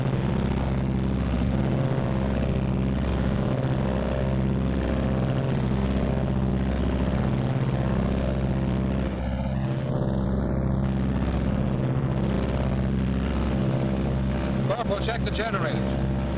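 The two propeller engines of a WW2 Martin B-26 bomber run up together to about 1,800, a steady, heavy drone with strong low harmonic hum throughout; a voice is briefly heard under the engine noise.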